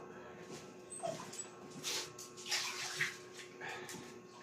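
Pet dogs whimper and yip excitedly at close range, with short high whines and splashy, scuffling movement sounds mixed in, while little else is heard.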